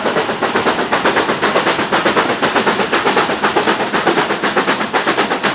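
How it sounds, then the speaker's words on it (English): A steam locomotive on the Churnet Valley Railway chuffs hard and fast up a steep gradient, with rapid rhythmic exhaust beats loud and close as it labours up the climb. "And look at the loco. That is really doing some work now."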